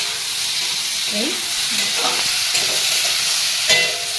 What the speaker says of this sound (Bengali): চিংড়ি মাছগুলো ভাজা হচ্ছে।